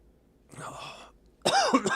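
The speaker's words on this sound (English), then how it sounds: "pardon my cough" Two bursts of coughing, the first a softer throaty cough, then a louder, harsher cough about a second later, close to the listener.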